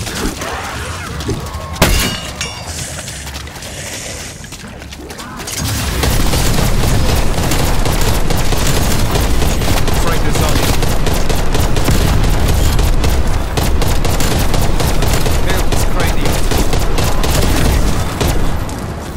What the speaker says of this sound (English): Equipping assault rifle.